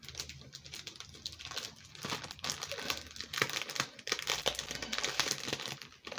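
Crisp, irregular paper crinkling and rustling as a handmade Mother's Day greeting card is handled and opened, close and fairly quiet, with no talking.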